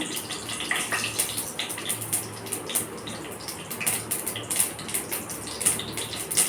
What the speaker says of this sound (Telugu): ఇందులోకి పోపు గింజలు వేసేసుకున్నాము ఆవాలు కదా